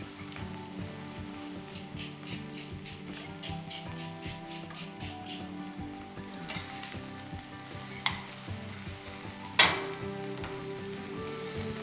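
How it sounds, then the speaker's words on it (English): Chicken breast frying in olive oil in a pan over medium heat, a steady close sizzle with stirring and scraping throughout, a sharper clatter near the end. "Add olive oil to the pan and cook the chicken breast on medium heat."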